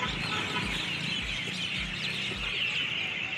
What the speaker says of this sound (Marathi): तुम्ही पक्ष्यांचा आवाज बघू शकता किती आहे आणि रात्री पण ते झोपलेलं नाही